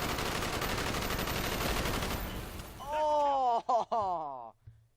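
Rapid gunfire from a street firefight in Call of Duty: Black Ops, a dense, loud burst of shots that gives way to shouted voices and groans, then a couple of sharp hits before falling quiet.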